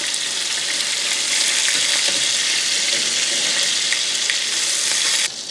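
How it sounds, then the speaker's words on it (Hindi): Whole mutton leg (raan) frying in a pan at home, a dense continuous sizzle with crackling pops, steady and close, no voices. "अब इसकी साइड चेंज की है तो इसके ऊपर देखेंगे हल्का फुल्का कलर ही आया है और कुछ नहीं है, बस इसको टोटल 15 मिनट के लिए इधर फ्राई करना है"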